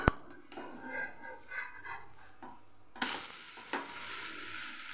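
Rava besan pudla fries in a pan with a soft, steady sizzle, broken by a few scraping knocks as the batter cake is turned over; the frying hiss grows brighter and louder after the flip.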